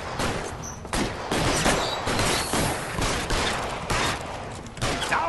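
Rapid bursts of gunfire from a police shooter video game set in Los Angeles, loud and sustained, with dense overlapping shots that come in waves throughout.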